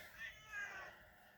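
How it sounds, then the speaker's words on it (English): A house cat at the door gives a couple of faint, drawn-out meows, heard alone and at a distance. "my cat is knocking"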